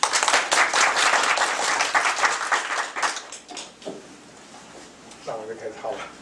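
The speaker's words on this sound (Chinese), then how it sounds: "我们再次掌声欢迎两位。" An indoor audience at a poetry talk applauds two poets with sustained clapping that fades after a few seconds, followed by scattered claps and a voice speaking.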